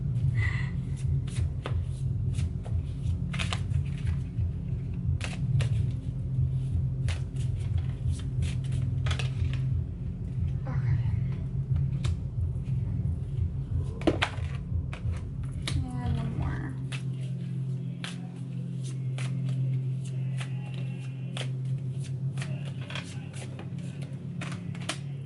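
A deck of psychic reading cards shuffled by hand again and again, with rapid riffling flutters and soft slaps close up, while a person talks quietly over it.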